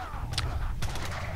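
Mortars shelling in the real-time strategy game Age of Empires III during a treaty match, heard as two short distant booming blasts about half a second apart over a low rumbling battle backdrop.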